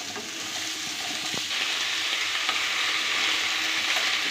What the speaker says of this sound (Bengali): এবার এগুলো হালকা ভেজে নেব